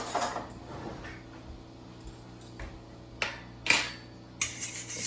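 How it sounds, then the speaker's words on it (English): Spoon clinking and scraping in a mixing bowl while yeast and other ingredients for dill seed braid bread are stirred together, a few sharp knocks and scrapes scattered over a quiet, soft background. "we're just going to stir that, get it incorporated"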